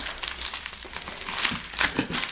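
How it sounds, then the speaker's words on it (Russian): Packaging from a parcel shipped from China, bought on AliExpress, crinkles and rustles steadily up close as it is unwrapped, with louder crunchy bursts near the end and no speech. "Распаковка посылки из Китая."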